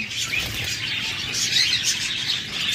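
A flock of budgerigars, including albino red-eyed pairs kept for sale, chirps and twitters constantly in a bright, overlapping chatter close by, with no talking.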